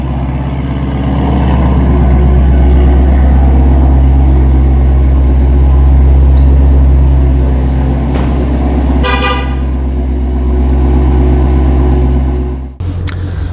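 A 2017 Ford Shelby Mustang GT350R droning steadily at close range, a loud, constant low engine note with a brief sharp burst near the end.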